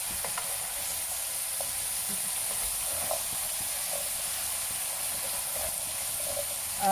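Chopped chayote pieces are tossed in a hot pan, giving a steady, even sizzling hiss with a few faint scraping ticks, continuous and close, with no talking.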